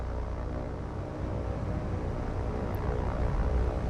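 Aircraft engines in the War on the Sea naval combat game, a steady low propeller drone that holds at an even, moderate level throughout with no voices over it.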